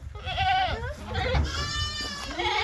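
A goat bleats in long, wavering cries, close by, with a brief pause between calls.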